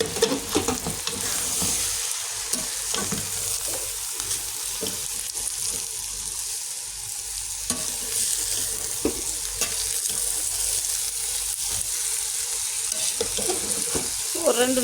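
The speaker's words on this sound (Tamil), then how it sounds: "ஒரு 2 நிமிஷம் வதக்கி விட்டுட்டோம்னா சோறு உடையாமல் வரும்" Rice with cumin seeds sautéed in a pan, a steady broadband sizzle with occasional scraping stirs, close and continuous throughout without talk.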